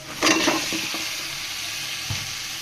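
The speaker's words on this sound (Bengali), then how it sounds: "একদম মশলাটা কষানো হয়ে গেছে, তেল উঠে গেছে, আমি মিষ্টি কুমড়াটা দিয়ে দিচ্ছি" Pumpkin and rohu fish go into hot spiced oil and are stirred, giving a loud sizzle that jumps at the start with a few scraping stirs, then settles into an even frying hiss.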